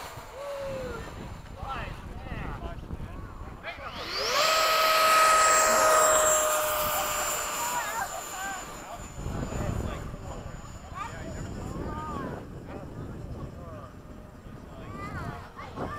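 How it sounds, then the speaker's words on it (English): Freewing 80mm F-5 RC electric ducted-fan jet making a fast low pass, a rising then falling whoosh that peaks loudly mid-clip, with people talking and wind noise around it. "fast little pass from the left"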